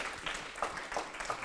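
An audience applauds a woman called to the front at a Dutch gathering about house cleaning. A brief, muffled burst of clapping sounds somewhat distant and fairly quiet.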